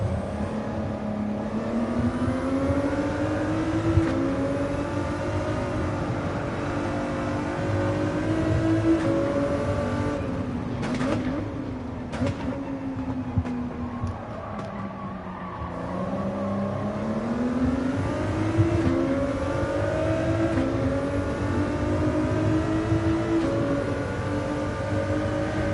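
A Porsche engine in Gran Turismo 7 drones loudly and steadily, its pitch climbing and dropping through gear changes as the car accelerates and eases off, with no speech.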